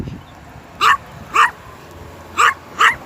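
Four sharp dog barks in two pairs, close and loud, with quiet room noise between them and no talking.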